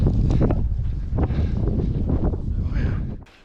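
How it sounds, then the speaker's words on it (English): Strong Mojave Desert wind roars across the microphone in heavy continuous gusts, buffeting loudly before easing near the end. "Anyways, very windy."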